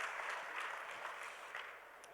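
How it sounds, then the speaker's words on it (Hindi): Audience applause at a school award ceremony for topper students, a steady wash of many hands clapping that stays fairly even and slightly distant throughout, thinning a little toward the end. "ताली बजवा दिया मैंने"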